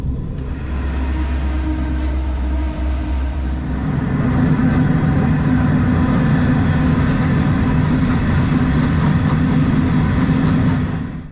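A long freight train in the Pilbara, Western Australia, rumbles steadily past close by, heavy low clatter and grinding of wagons continuing throughout without pause.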